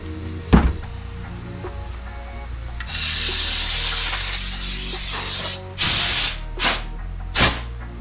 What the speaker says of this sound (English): You're gonna wanna blow all the shavings out, okay?